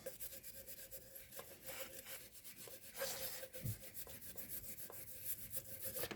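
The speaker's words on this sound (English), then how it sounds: "Just a regular wire brush is all that's needed for this." Steady scratchy scrubbing from a regular wire brush working carbon deposits off parts of a GM 6.2/5.3 V8 engine during intake removal, continuous rough strokes at close range with no talking.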